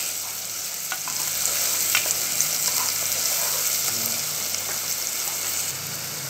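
Finely chopped small onion fries in ghee or oil in a pot for a kofta-rice sauce, giving a steady bright sizzle with faint scattered stirring clicks throughout, close and continuous, no voices.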